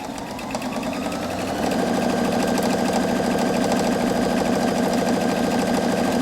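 A Viking Opal 690Q sewing machine starts up and stitches an 18 mm buttonhole, a loud, steady rapid whirring hum with a fast mechanical pulse that rises after a short quieter start.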